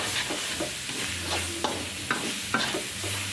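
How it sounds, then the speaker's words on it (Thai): Field rat meat with holy basil sizzles in a hot pan as it is stir-fried, with a few close scraping and tapping strokes over a steady frying hiss. "คนพัดที่นี่ครับ พัดไปจนให้เนื้อมันสุกแล้วจนให้หย่อนน้ำ"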